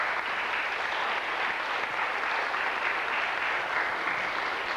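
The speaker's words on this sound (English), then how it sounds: "Give Mary a nice round of applause" A hall audience at a memorial concert in Roslea, Fermanagh, gives a steady round of applause for five seconds, even and moderately distant.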